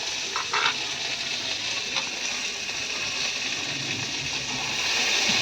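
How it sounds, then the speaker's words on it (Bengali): Beans frying in a pan during a Bengali vegetable curry made with peas, carrots, flat beans and potato, a steady close hiss and sizzle with faint stirring clicks throughout. "তো বিনসটাকে ভালো করে ভেজে নিচ্ছে।"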